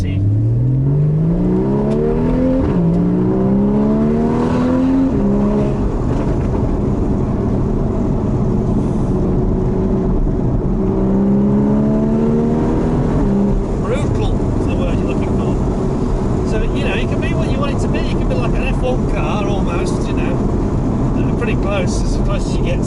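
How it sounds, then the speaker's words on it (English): A Porsche 981 GTS sports car engine revs up through rising gear pulls, a throaty note climbing and dropping twice before settling into a steady drone with road noise. "But you can hear the engine note is pretty."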